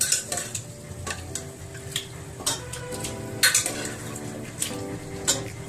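Meat with chopped tomato, salt and ground pepper being sautéed and stirred in a pot for a Bengali meat curry, with a steady sizzle under repeated scraping and clinking of a spoon against the pan.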